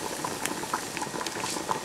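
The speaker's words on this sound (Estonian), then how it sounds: "Ja meie Floppi supp keeb vaikselt." A floppy drive simmers in salted hot water, giving a steady, close bubbling and popping boil with soft patter throughout and no voices.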